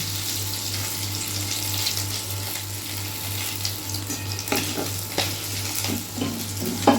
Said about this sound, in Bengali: এবার একটু ফোড়নগুলো দিয়ে দেবো। একটু জিরে, তেজপাতা